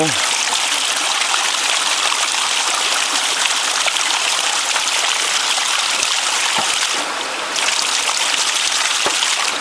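Creek water rushing steadily past a ram pump during low flow, a continuous broadband wash with small splashes and trickles, close and loud throughout with a brief dip near the end.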